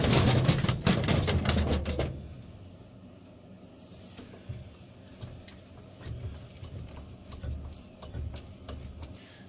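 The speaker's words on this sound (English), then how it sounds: "position it under the subframe so I can take the other two bolts out that hold it in place" Ratcheting socket work on subframe bolts of a 2007-or-newer Volvo S40, a loud burst of rapid clicking for about two seconds, then fainter sporadic clicks and clunks under a steady hum.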